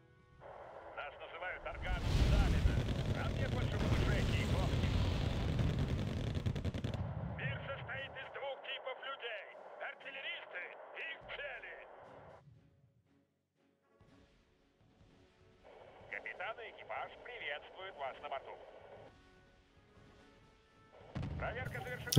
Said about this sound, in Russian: Артиллерия наводит порядок в уродливом хаосе боя.